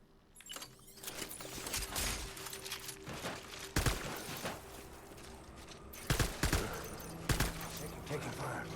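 Gunfire in Death Stranding comes as a series of sharp bursts and scattered shots, with louder cracks standing out near the middle and toward the end over constant mechanical game noise, and a voice talks at points.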